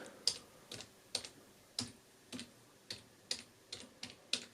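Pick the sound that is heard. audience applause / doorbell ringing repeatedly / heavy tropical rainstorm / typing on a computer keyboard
typing on a computer keyboard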